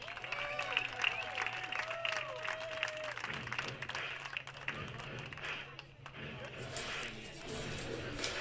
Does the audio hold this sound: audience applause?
yes